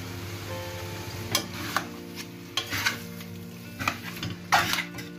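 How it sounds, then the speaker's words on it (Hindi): A spoon stirring tomato spaghetti in a pan: a faint sizzle runs underneath while sharp scrapes and clinks of metal against the pan come in irregular bursts, close and fairly loud. "एक और चम्मच ले लेते हैं उससे मिक्स करेंगे"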